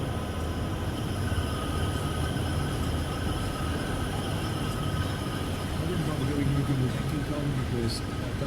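Union Pacific Rio Grande heritage locomotive hauling 50 coal cars up Sherman Hill in a train simulator game: a steady low diesel rumble and rolling rail noise throughout, with a voice talking over it.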